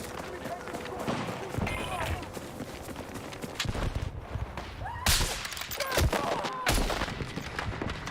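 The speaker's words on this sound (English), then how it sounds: "Someone is shooting me in the back." Gunfire crackles in a video game: bursts of shots, some rapid and some single, with sharper loud cracks near the end, over a busy background of movement, with someone talking throughout.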